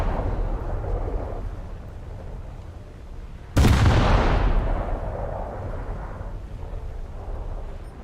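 Naval guns on a warship in a naval combat video game, firing at aircraft near the coast: one sudden heavy boom over a steady low rumble, with a long rolling decay.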